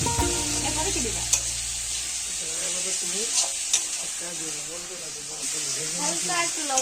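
Onion paste frying and being stirred in a pan with a pinch of salt, a steady close sizzle and hiss throughout, with scraping stirs and a faint voice in the background.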